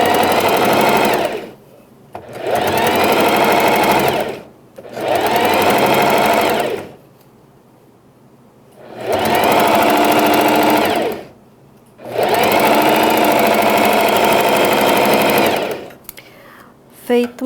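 A sewing machine runs a straight seam joining the main fabric and lining of a pet bandana, in five steady motor bursts of about two seconds each, separated by short pauses.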